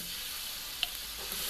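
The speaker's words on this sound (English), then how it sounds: "and now we add the prawns. Okay, look at the sizzling stuff." Prawns hit hot oil in a pot with a loud, continuous hissing sizzle, a few sharp crackles and pops standing out over the steady frying noise.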